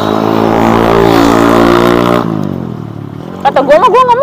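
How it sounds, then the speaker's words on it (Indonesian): A motorcycle passes on a roadside street-food strip, its loud engine drone sustained at close range for about two seconds before dropping away, followed by a quieter lull and then people talking. "Kalau lihat motor lewat itu dimaklumin aja juga karena gue di jalan"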